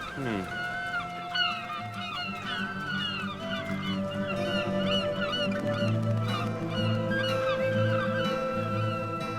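Cartoon seagulls honk and squawk in a dense, overlapping chorus in a French animated pirate series, the calls piling up continuously over a background score.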